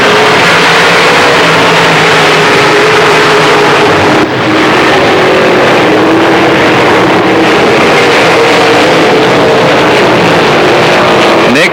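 Late model race cars roar loudly around a track, their engines droning and rising and falling as the pack passes in a dense, continuous wall of sound.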